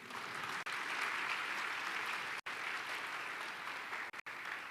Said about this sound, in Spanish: ¿Le puedes dar un aplauso a Dios?